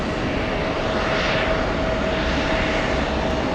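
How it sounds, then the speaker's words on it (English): An American Airlines heavy jet takes off at JFK airport, its engines producing a constant, loud, broad roar with a thin high whine, swelling gently without any speech. "I think we can get here before this American heavy takes off."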